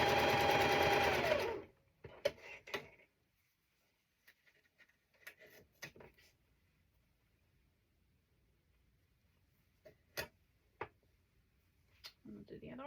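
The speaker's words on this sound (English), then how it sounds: "I always do chain piecing when I'm doing my pieces." A sewing machine runs in a fast steady burst while chain piecing quilt pieces, then stops, leaving faint clicks, fabric handling and small taps.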